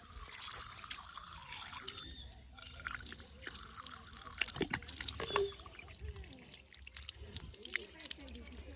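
Water runs from a household tap into a container in a steady wash with occasional drips and splashes, fairly faint, while people talk over it.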